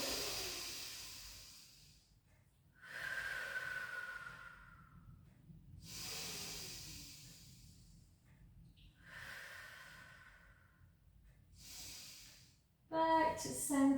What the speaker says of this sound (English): Take a lovely breath in